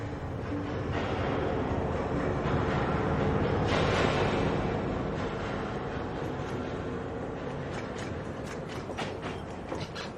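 A train runs steadily between stations as a radio drama effect, a continuous loud rumble with rhythmic rattling and clacking of the cars throughout, with no voices over it.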